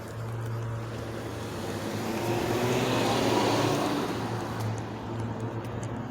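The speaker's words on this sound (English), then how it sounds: "Is it a vacuum truck or there's somebody doing lawn work?" A motor hum drifts in from outside in Takoma Park, Maryland, likely a vacuum truck or lawn equipment, a steady low drone that swells in the middle and eases off again, fairly faint.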